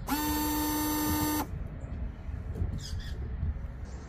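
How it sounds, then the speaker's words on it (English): Windshield washer reservoir pump motor on a 2015 Ford Focus running up close: a steady, loud electric whine lasts about a second and a half, then stops abruptly, leaving quiet handling noises. "Do you not hear the sound coming from your reservoir motor?"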